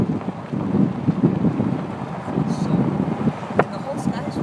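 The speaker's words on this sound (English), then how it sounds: "There's some wind." Wind buffets the microphone outdoors at a Nebraska sandhill crane migration site, a low rumbling gusty roar that rises and falls, with brief chirps and a few other sounds.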